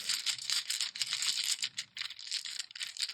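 Several dice are scooped up and shaken, giving a continuous bright clattering rattle in quick bursts with short pauses, close and fairly quiet, with no voices.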